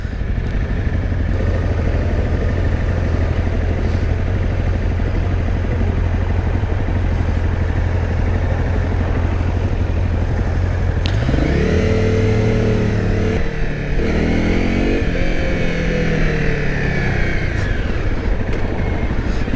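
Honda CRF 250 Rally motorcycle engine running loud and close throughout, steady at first, then rising and falling in a few quick revs toward the end.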